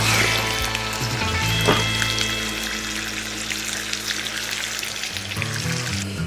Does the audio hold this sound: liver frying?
yes